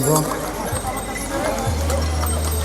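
Horses clip-clop along the Gaurikund to Kedarnath mountain trekking path, their hooves knocking close by while people talk over them and a low engine-like drone sets in partway through.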